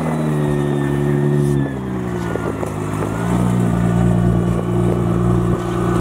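A rare Roush Mustang GT engine starts and runs close by, a steady loud mid-pitched rumble with a slight shift in tone partway through, heard alone without talk.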